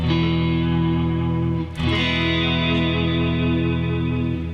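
A loud, distorted electric guitar chord rings out and sustains with a slight wavering shimmer from a floating tremolo bar, briefly broken by a quick strum midway, no voices.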